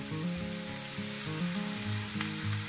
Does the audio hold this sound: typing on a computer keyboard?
no